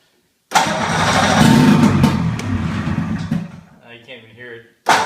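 A Polaris Indy Trail snowmobile engine under repair is cranked on choke, a loud rough burst of mechanical churning that fades after a few seconds, with people talking close by and a sharp thump at the end.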